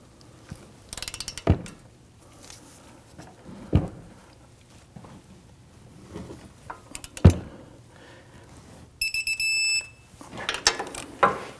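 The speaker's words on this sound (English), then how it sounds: "We now want to go ahead and torque these to 122 foot-pounds." Torque wrench tightening bolts on a front CV axle of a Ford Taurus, 2010–2019 model, heard as a few sharp isolated ratchet clicks and a brief clicking burst near the end, close by amid quiet workshop background.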